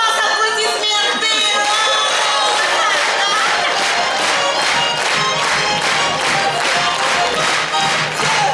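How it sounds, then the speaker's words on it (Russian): An audience breaks into sustained, dense applause after a chastushki folk song performance with accordion accompaniment. The clapping is loud and continuous, with crowd chatter and some cheering mixed in. "Если мы понравились, с вас аплодисменты."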